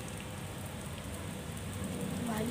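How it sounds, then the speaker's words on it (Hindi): Light rain falls steadily outdoors, a dense, even patter of drops that holds at a constant level throughout with no voices. "खैर कुछ ऐसा दिख रहा है बाहर और बारिश भी हो रही है।"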